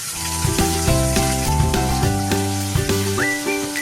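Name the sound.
cumin seeds sizzling in hot oil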